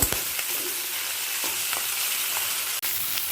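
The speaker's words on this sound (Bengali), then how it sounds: "মুড়োগুলোকে ভেজে নেব একটা দিক ভাজা হয়ে গেছে এবার অপর দিকটাও" Fish heads frying in a little oil in a kadai for a Bengali poi shaak kanta chorchori, a steady close hiss and crackle with small spitting pops throughout, no voices.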